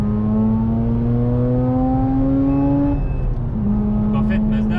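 A Mazda RX8 rotary engine in second gear revs hard up to the rev limiter, a loud rising drone that climbs steadily for about three seconds, then holds and bounces at the limiter with a faint beeper chiming in.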